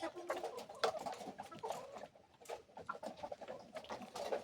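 Chickens in newly installed cages clucking in short, irregular bursts, some sharper calls standing out over a busy, moderately close flock chatter, with no talk.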